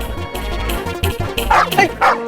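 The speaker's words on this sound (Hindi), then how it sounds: "भौंक क्या रहा है?" A dog gives a few short, close barks and yips in quick succession, loud against a steady background hum, with no talk over it.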